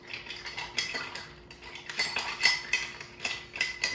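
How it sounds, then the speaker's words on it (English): An Old Fashioned cocktail is stirred in a glass with a makeshift bar spoon. A steady run of light metallic clinks and scrapes comes in quick, uneven strokes, close and clear with no talking. "So get in there and just stir it around as much as you can."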